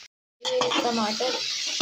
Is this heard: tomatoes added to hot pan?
yes